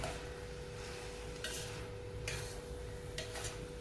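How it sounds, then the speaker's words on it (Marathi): Carrot halwa (gajar halwa) stirred in a pan, heard as a quiet, steady scraping and shuffling with a few brighter spoon scrapes against the metal, no voices. "ते हलवून घ्यायचं असं छान"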